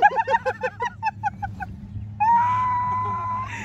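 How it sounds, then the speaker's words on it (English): A rapid series of loud clucks and squawks from chickens nearby, followed by a long, steady higher-pitched call or whine. "There's chickens."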